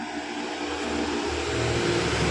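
A Bajaj Pulsar NS 125 BS6 motorcycle engine with an engine-noise problem runs steadily at idle, close and loud, giving a continuous droning rumble with no pauses.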